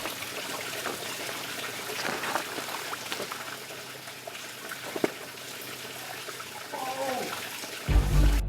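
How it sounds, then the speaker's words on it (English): A small waterfall on a rugged Oahu ridge trail gives a steady outdoor wash of trickling, splashing water, fairly close, with brief scuffs and a short stretch of talk near the end. "now we just arrived to a little waterfall"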